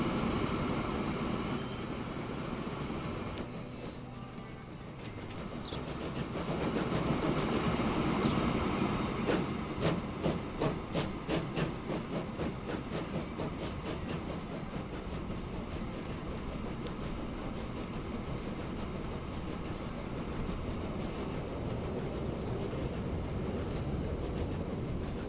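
Long trains running in a Transport Fever 2 mountain rail line game, a rolling rumble with a stretch of rapid rhythmic wheel clacks as cars pass, fairly quiet and steady.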